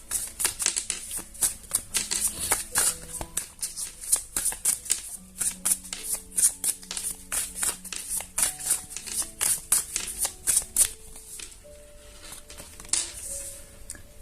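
Tarot cards shuffled by hand in bursts of rapid riffling and flicking, close and crisp, with brief pauses between shuffles and a quieter stretch near the end.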